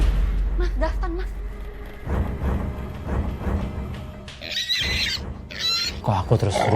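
A pig grunts repeatedly and roughly at fairly close range, the rumbling calls mixed with thumps and a few higher squeals near the end.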